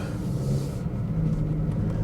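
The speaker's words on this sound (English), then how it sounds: "let's drive this very underrated vehicle" A 2023 Kia Stinger driving along, heard from inside the cabin as a steady low road and engine rumble that stays fairly even throughout, with no voices.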